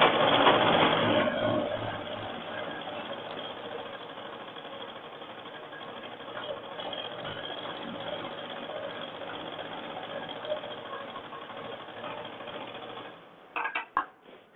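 A sewing machine runs steadily while stitching a narrow folded hem on a man's shirt. The hum is continuous and fairly close, louder in the opening second, and stops near the end with a few brief clicks.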